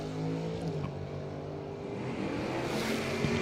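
Drag race cars, a Malibu and a Chevelle, launch at a strip, a loud continuous engine roar rising in pitch as they accelerate away, heard from nearby with no talking.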